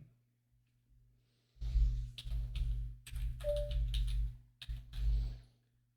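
Short bursts of tapping on a computer keyboard connected to a Ubuntu mini PC come in quick clustered clicks separated by brief pauses, close and fairly quiet over a faint steady hum.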